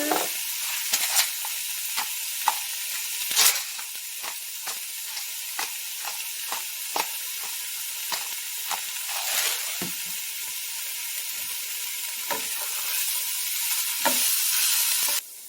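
Vegetables fry in a skillet for chicken fideo pasta, giving a constant, bright sizzling hiss close up. Frequent spatula scrapes and stirring ticks punctuate the sizzle, with no talking.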